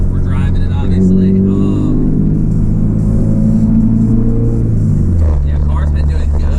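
A car's engine drones steadily from inside the cabin while driving, with a deep continuous rumble and a rise and fall in pitch, beneath someone talking throughout.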